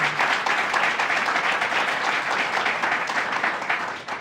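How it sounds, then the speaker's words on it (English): An audience at the grand opening of a corporate headquarters breaks into sustained applause, a dense, even wash of many hands clapping that carries on without pause throughout. "Let's give him another round of applause here."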